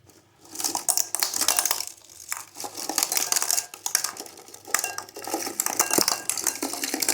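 Crisp, continuous rattling and clattering of small dry fried gol gappay (pani puri shells) tumbling into a serving bowl, with bright crunchy clinks, close and loud, no talking.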